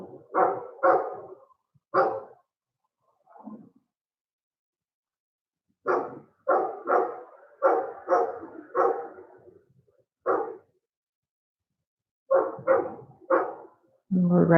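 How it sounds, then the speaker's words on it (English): Big Labrador dogs at a neighbouring dog park bark in repeated bursts of two to four barks separated by pauses, fairly close and loud, while a landscaper works nearby. "I think the landscaper is antagonizing one of the big labs."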